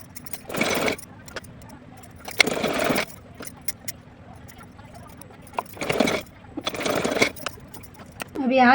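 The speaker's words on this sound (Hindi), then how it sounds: "इस पर एक बार मैं सिलाई लगा लेती हूँ किनारी पर" A sewing machine stitches along the edge of a small plain choli, running in four short whirring bursts separated by quiet pauses, close and clear.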